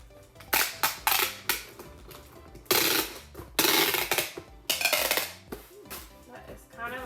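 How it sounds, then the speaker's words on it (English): Loud, ripping bursts of packing tape being pulled and pressed onto a cardboard shipping box for tumblers, several long screeching strips between sharp crackles and taps, close up. "So we're just gonna tape this up."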